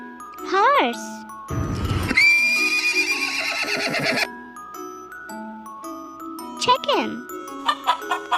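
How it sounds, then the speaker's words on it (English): A farm horse gives a loud, close neigh, a long shaky whinny rising and falling, set among light jingling chimes, with a brief voice before it. "Horse."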